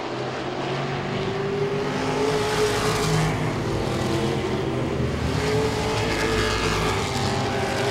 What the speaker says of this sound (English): Hunter Slayton makes the pass on the back straightaway.